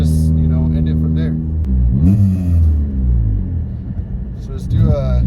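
A Volkswagen MK7 GTI fitted with an XClutch Stage 2 clutch revs from idle, its engine droning and climbing in pitch under acceleration from inside the cabin, with someone talking over it.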